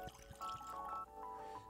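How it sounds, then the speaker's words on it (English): Horse Soldier bourbon whiskey trickles from the bottle into a glass in a short, gentle pour with a few gurgling splashes, close and quiet. "I'm gonna pour, not a Joel pour."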